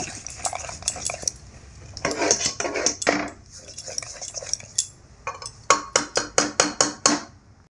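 A masher thumps and scrapes through cooked dal in a pot, with a run of sharp, regular metallic knocks toward the end; no one speaks.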